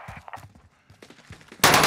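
A sudden loud burst of gunfire from the video game Call of Duty: Modern Warfare ends the moment, following soft, muffled in-game thuds and movement sounds.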